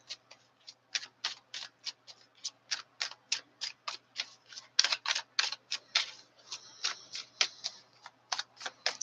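Tarot cards shuffled by hand in a quick run of crisp, papery riffling bursts that repeat steadily and close by, with brief pauses between them and no talking.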